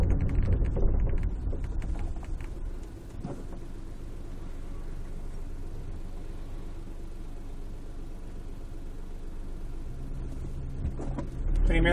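A car coasting toward a traffic light with the accelerator released gives a continuous low engine rumble and road hum, steady and fairly loud from inside the cabin, with no one speaking.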